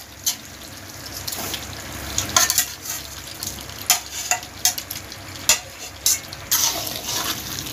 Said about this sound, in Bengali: আলুটাও মশলার সঙ্গে মিশিয়ে নেব।